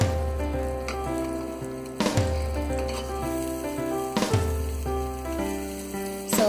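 Butter sizzling as it melts in a hot pan, a steady soft crackle with a few sharp clinks or taps recurring at intervals, no voices.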